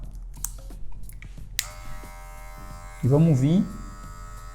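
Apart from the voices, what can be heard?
A1 hair clipper with guard comb 1 cutting hair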